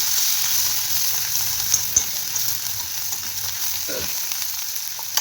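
Spices with tomato and onion masala sizzle and fry in a pan after red chilli powder, turmeric and coriander go in, a continuous close hiss with a few soft stirring knocks.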